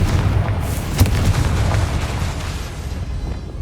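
A Confringo blasting spell explodes in the Hogwarts Legacy video game. It lands as a deep, rumbling boom with one sharper burst near the start, then a sustained low roar that slowly fades, with no talk over it.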